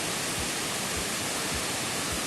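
Iruppu waterfall in Coorg, India, roars as a continuous, loud, broadband rush of falling water with no pauses or voices.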